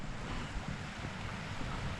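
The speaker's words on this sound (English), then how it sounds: "So you can see the water getting forced through the gaps in the rocks, creating that nice water sound." Water from a farm stream forced through gaps between rocks around a small stony island, giving a steady, broad rushing wash that continues evenly throughout, fairly close and without talk.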